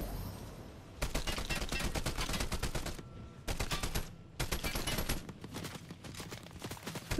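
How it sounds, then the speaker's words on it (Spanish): Rapid bursts of automatic gunfire from a Fortnite match, loud and close, with dense volleys that break off briefly around the middle before resuming, followed by a quieter tail. "Disparitos."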